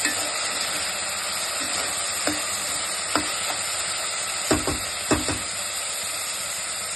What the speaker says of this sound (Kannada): ಇದು ಎಣ್ಣೆಯಲ್ಲಿ ಚೆನ್ನಾಗಿ ಫ್ರೈ ಆಗುತ್ತೆ.